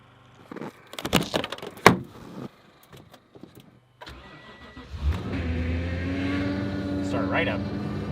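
A truck in frigid Alaskan cold gives scattered clicks and thumps, then cranks and starts around the middle and settles into a steady, close idle, with brief voices nearby.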